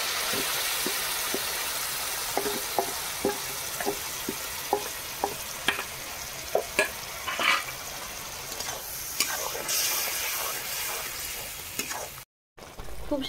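Ground kul greens hit a pan with frying shrimp and onion, giving a continuous sizzle broken by repeated short clicks and taps of stirring, with a moment of silence near the end.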